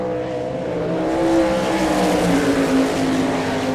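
Phil Gressman's number 9 sprint car, a Riedling Maxim chassis with a Gertie engine, runs a qualifying lap at an All Star Circuit of Champions race in Rossburg, Ohio, its loud engine droning and shifting pitch as it passes.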